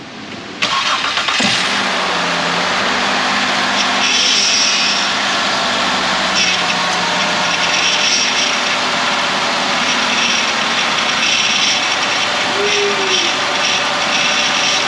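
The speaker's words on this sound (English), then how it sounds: "Beginning engine starting sequence now." A 2007 Ford Escape engine cranks and catches, then settles into a steady, loud idle that runs on without pause.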